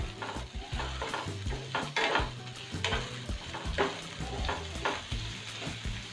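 Vegetables and green chilli for a spicy soya chilli are stir-fried on full flame, a loud close sizzle punctuated by rhythmic spatula scrapes and tosses against the pan throughout.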